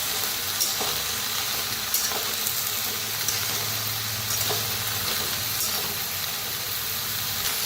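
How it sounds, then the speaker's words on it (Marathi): Peanuts roast in a pan over a village-style wood-fired stove, giving a steady, close hiss and sizzle with occasional light scraping clicks from stirring. "ते बी वापरूया. त्याला भाजून घ्यायचे त्यातच"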